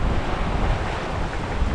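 Wind and waves at sea aboard a sailboat off the Queensland coast, between Northwest Island and Great Keppel, in a swell: a loud, steady rush of wind buffeting the microphone over broadband surf noise.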